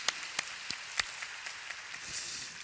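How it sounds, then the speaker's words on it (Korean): Scattered applause from a church young-adults congregation during a Sunday service, a steady patter of many hands with a few sharper claps standing out, fairly faint and with no talk over it. "박수 한번 칠까요?"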